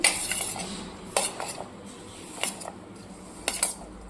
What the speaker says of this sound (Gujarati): હવે આપણે આને મિક્સ કરી દઈશું